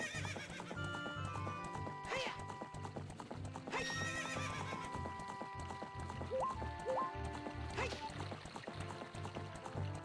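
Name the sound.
horse galloping and neighing in Zelda: Ocarina of Time video game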